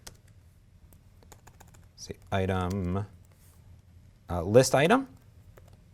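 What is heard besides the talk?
typing on a computer keyboard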